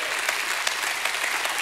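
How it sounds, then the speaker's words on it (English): A church congregation claps together, a steady dense patter of many hands close by with no voices. "go ahead and give him a hand clap"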